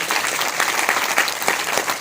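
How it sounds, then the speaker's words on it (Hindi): An audience at a wellness product training session claps loudly for a presenter in a short burst of dense, steady applause with sharp individual claps standing out, and no talking. "मैम के लिए एक बार जोरदार तालियों से फाइटर्स, सभी लोग"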